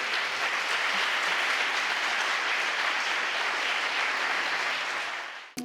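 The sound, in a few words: audience applause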